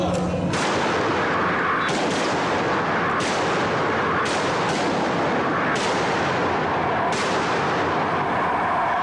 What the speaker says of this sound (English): So they're shooting him? Yeah, shooting him, I think 38 times.